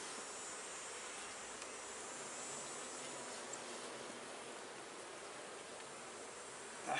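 Honeybees swarm in the air around an open hive during an inspection, a faint, continuous buzzing drone with no talking, steady and diffuse throughout.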